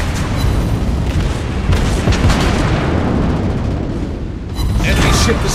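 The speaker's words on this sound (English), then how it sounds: "Enemy ship destroyed." Heavy rumbling explosion of an enemy ship being destroyed in a World of Warships Blitz naval battle, a loud sustained boom with rolling debris and a fresh blast near the end, mixed with a voice.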